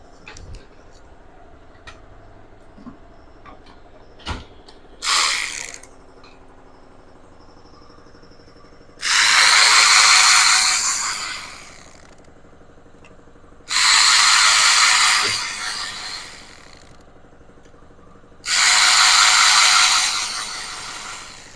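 A 1/4 inch drive ratchet turns fasteners on a 2020 Mercedes-Benz GLE 2.0 Turbo during a coolant inlet pipe leak repair: one short burst of rapid clicking, then three longer, loud runs separated by quiet pauses.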